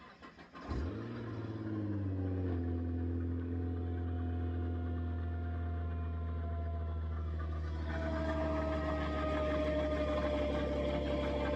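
A Nissan GT-R R35 with a failing bellhousing bearing starts and idles, settling into a steady low drone with a layered mechanical whine and harmonic tones that rise slightly after a few seconds as the revs lift.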